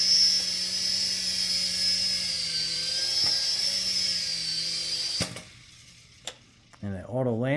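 A DEERC toy RC helicopter hovers with a steady high-pitched rotor and motor whine, then lands automatically and the whine cuts out before spinning back up for another takeoff, with faint talk over it.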